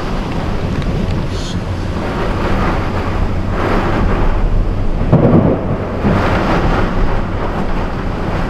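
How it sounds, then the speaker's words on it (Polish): Thunderstorm on an exposed mountain ridge in Slovenia, with low rumbling thunder rolling in twice over steady wind buffeting the microphone and possible rain. "a idzie burza, a ja na grani."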